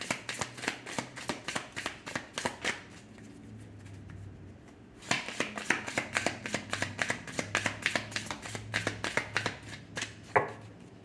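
Angel cards are shuffled in quick, crisp riffling bursts that repeat in a steady rhythm, pausing briefly midway before the shuffling resumes close and clear without speech.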